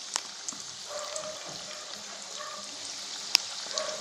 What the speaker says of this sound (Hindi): पकौड़ी को हम गोल्डन ब्राउन होने तक फ्राई कर लेंगे दोनों साइड से।